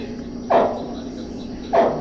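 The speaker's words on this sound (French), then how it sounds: "là du coup on va mettre les bébés alligators" Baby alligator calls play back through a speaker at an Everglades exhibit: two short, loud, upward-chirping grunts about a second apart over a low steady hum.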